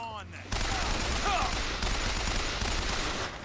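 Heavy sustained gunfire from the video game BioShock Infinite, a loud, dense automatic barrage starting after a brief quieter moment, with faint game voices mixed underneath.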